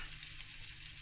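Rice hits a hot pan with herbs and dried parsley, giving a short, quiet, even sizzle that lasts only about a second.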